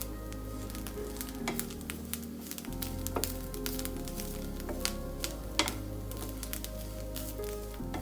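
Grated coconut dry-roasting in a pan over medium-high heat, giving a steady close crackling sizzle broken by frequent sharp clicks and scrapes of a spoon stirring, with no talk.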